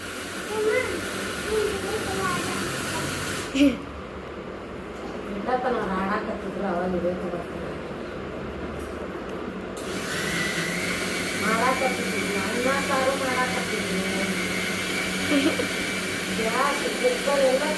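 A mixer grinder grinding rice in a home kitchen, a loud steady whirring hiss that cuts off for several seconds and then resumes, with someone talking over it.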